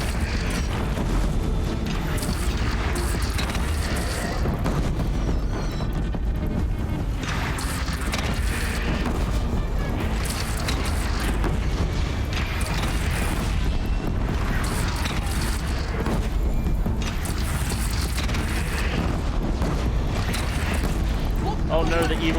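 A big explosion in Horizon Zero Dawn blows up the player character, a loud booming blast with crashing, rumbling debris sustained over a dense, continuous game soundscape.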